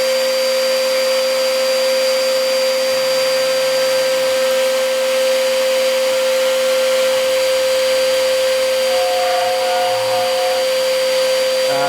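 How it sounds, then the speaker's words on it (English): A CNC router mills with dust extraction running, giving a loud, steady continuous whine and roar with a sustained tone throughout and slight shifts in pitch as the cut progresses. "Dust extraction on. That's the router running."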